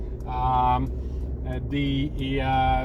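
Artificial driving sound effect from a Mercedes G580 EQ electric SUV, a synthetic futuristic hum made of layered tones that rise, pause and swell again across a few seconds, fairly loud and alone.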